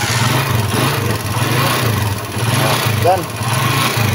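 A repaired motorcycle engine runs loud and close with a steady, throbbing idle throughout, while someone speaks briefly over it.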